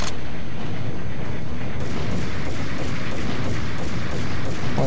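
Gunfire in the PC shooter Max Payne, a loud, sustained wash of shots and booming impacts running throughout without pause, no voices heard.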